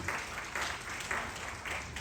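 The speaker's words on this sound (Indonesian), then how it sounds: "Beri tepuk tangan bagi Tuhan kita." A church congregation clapping in rhythm, the applause rising in regular pulsing swells about every half second, steady and moderately loud throughout.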